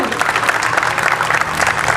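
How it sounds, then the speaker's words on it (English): Loud, dense applause from a school event audience, continuous clapping with no pauses and a faint murmur of voices underneath. "Please give them a big round of applause,"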